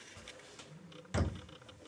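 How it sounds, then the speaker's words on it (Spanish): A folding wardrobe door is pushed closed and meets its frame with a single soft wooden thump midway, preceded by quiet shuffling and handling noise, with no talk. "Cerramos y esto hace que no se hunda en exceso la puerta."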